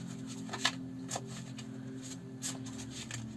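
Tarot cards being shuffled during a reading: soft, irregular papery riffles and brushes over a steady low hum, moderately close, with no voices.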